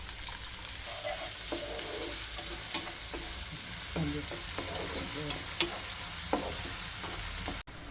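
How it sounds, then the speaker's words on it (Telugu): Thinly sliced onions fry and sizzle steadily in hot oil for a vangi bath, with a constant crackling hiss broken by scraping stirs and a few clinks of a utensil against the pan. "సన్నగా కట్ చేసిన ఉల్లి ముక్కలు వేయాలి"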